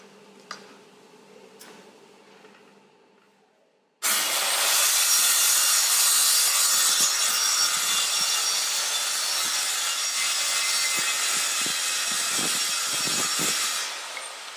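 A circular saw cuts through a wood workpiece, starting abruptly after quiet handling clicks and running as a loud, close, steady whining rasp for about ten seconds before winding down.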